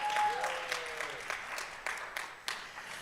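Members at a sorority forum hosted by Alpha Kappa Alpha clap, a moderate patter of applause with a few sharper individual claps rising out of it and a brief voice at the start.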